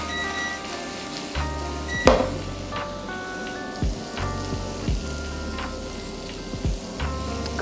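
Shrimp fry in a pan with sliced chili rings added, giving a steady low sizzle broken by repeated clinks and scrapes of a utensil against the pan.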